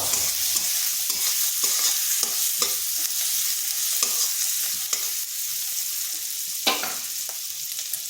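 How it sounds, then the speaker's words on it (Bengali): Finely chopped medium onion frying in oil in a pan, a steady close sizzle broken by repeated scraping strokes of a spoon stirring, continuous and fairly loud with no talking. "একটা মিডিয়াম সাইজের পেঁয়াজকে এরকম কুচি করে নিয়েছি ছোট ছোট। হালকা একটু ভেজে নেব।"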